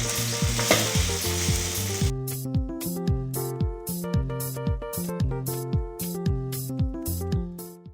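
Bread pizza fries in a pan with a loud, steady sizzle for about two seconds. Rhythmic music then takes over and largely buries the frying.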